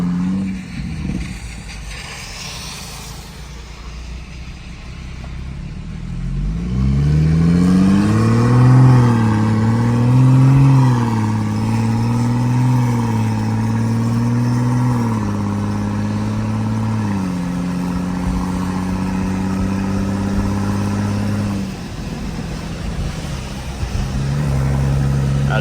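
A big-turbo BMW M535i engine, heard from inside the car on a wet road, revs up loudly and holds a strong, steady drone with pitch steps as it shifts gears, then settles lower near the end.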